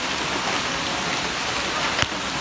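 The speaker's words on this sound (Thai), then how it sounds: "ฝนตกหนัก" Heavy rain pours steadily in a rural rubber-tapping area, a dense, loud, continuous hiss of drops on surfaces with one brief sharper patter near the end.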